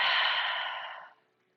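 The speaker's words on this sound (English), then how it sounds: "Slow and controlled exhale." A slow, controlled breath out during a guided breathing exercise: one steady, airy exhale that stays full for about a second, then fades smoothly into silence. It is close and fairly soft, with no talking over it.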